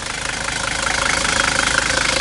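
A 1978 Mercedes-Benz 300D diesel engine idles just after starting, giving a steady, close, rough rumble with an even mechanical clatter and no voices.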